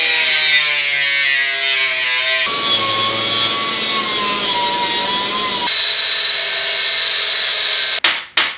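Metal cutting for a weld-in half pipe during fabrication on a Subaru EZ30 turbo-powered Porsche 911, a steady loud grinding whine with shifting pitch running continuously, ending in a couple of sharp clanks.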